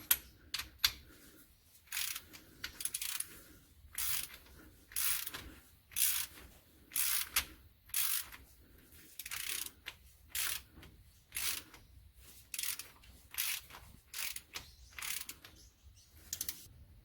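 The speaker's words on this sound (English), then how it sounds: "So now we'll just get the socket on that and tighten that up." A socket ratchet tightens a bolt on a Hyundai Tucson transfer case, with short bursts of quick, close clicking repeated roughly every second and quiet pauses between the strokes.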